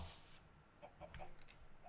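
Chickens in Minecraft cluck in short, soft, scattered blips after a brief higher squawk at the start, quiet and close.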